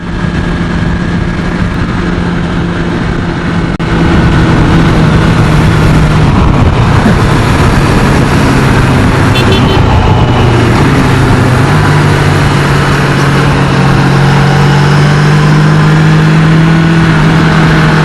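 A Yamaha FZ9 motorcycle accelerates hard, its engine note climbing steadily in pitch under heavy wind rush, loud and continuous throughout as if recorded on board.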